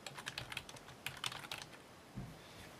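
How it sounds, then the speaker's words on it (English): A table name typed on a computer keyboard: quick, light, irregular key clicks in short bursts, fairly quiet and close, with no talking. "all I'm gonna do is here is double click and type in the name"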